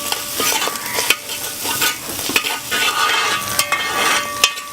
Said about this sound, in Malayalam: കരിയാപ്പില ഇളക്കി കൊടുക്കുക